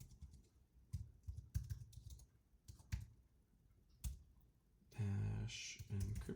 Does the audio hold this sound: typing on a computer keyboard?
yes